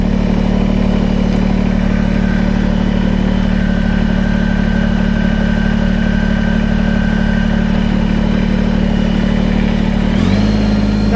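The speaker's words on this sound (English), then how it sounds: "I'm going to set the tractor in four-wheel drive and low gear." A Kubota BX compact tractor pulling a Land Pride GS1548 grading scraper runs steadily in four-wheel drive and low gear, its engine droning close and loud with no talk, and shifts pitch near the end as it climbs uphill.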